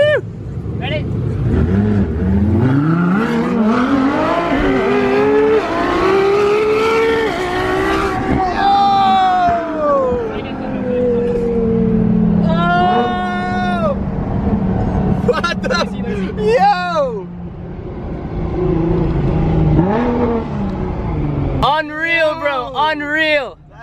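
A LaFerrari races a Nissan GT-R, engines revving hard and rising through the gears in long loud sweeps, with tire noise and repeated high-pitched acceleration whines close by, and excited voices heard over it.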